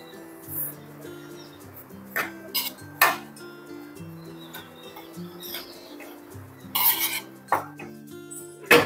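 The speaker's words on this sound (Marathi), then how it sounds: "तर चला आता आपण रवा भाजून घेऊया छान तुपामध्ये।" Semolina (rava) roasts in ghee in a pan while a spoon stirs it. Quiet, intermittent scrapes and light metallic clinks sound over a faint low hum.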